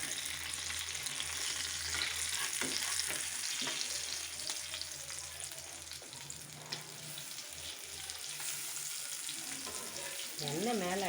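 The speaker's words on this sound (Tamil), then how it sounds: "மீன் நல்லா ஒரு சைடு வந்து வறுத்து வந்தாச்சு, ஃப்ரை ஆகிட்ருக்கோம்" Fish frying in hot oil in a pan, a bright, steady crackling sizzle that runs throughout, with faint low hum beneath and a brief voice near the end.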